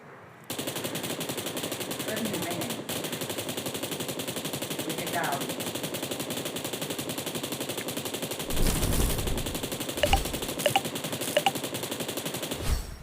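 Rapid automatic gunfire from the game PUBG rattles continuously across the scene, with a heavier burst of shots near the end; a few faint voices sit underneath.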